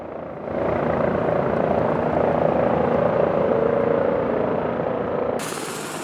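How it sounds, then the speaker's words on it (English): A BK 117 helicopter runs close by, its main and tail rotors thumping under the loud, steady whine of screaming turbine engines for several seconds. "Noises are created by the main rotor, the tail rotor, and particularly by the screaming turbine engines."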